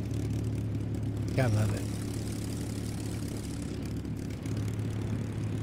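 A Spitfire Mk-5b's piston aero engine in a flight simulator drones steadily throughout with a low, constant hum, with a brief sputtering surge like a backfire early on; someone talks briefly over it.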